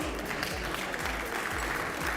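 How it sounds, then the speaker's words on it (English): An audience at an employee service awards ceremony applauds steadily, a dense wash of clapping that holds at an even level throughout. "Give her a round of applause, please."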